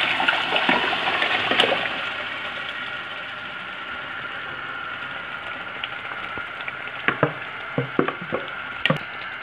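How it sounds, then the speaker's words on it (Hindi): Cooked, softened lentils tipped into a pan of fried chicken for chicken daleem, producing a rushing, pouring splash that settles into a quieter bubbling with a few clinks of a spoon against the pan. "अब इसमें ये सारी गली हुई दालें डाल दें।"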